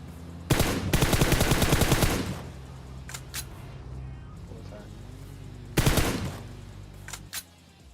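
Sharp loud gunshots from an AWM sniper rifle and other weapons in the PUBG Mobile game, a dense burst of rapid fire followed by a few isolated cracks and another short burst, with faint talk between.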